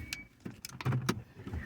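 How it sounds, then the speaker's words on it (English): A car on the road after a church drop-off, heard from inside as a low, uneven rumble with a few brief clicks and thumps, moderately quiet and without talk. "might hear my car"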